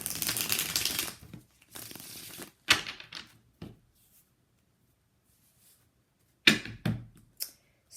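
A deck of tarot cards is shuffled up close in short bursts of riffling and sliding, with quiet gaps between them and no talking.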